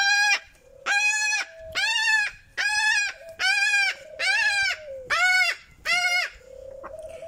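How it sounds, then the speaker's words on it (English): A cockatoo from Indonesia lets out a series of eight loud, harsh, raucous screeches in steady rhythm, close to the listener, each burst about half a second long with short gaps between them. "Nemo's a cockatoo from Indonesia."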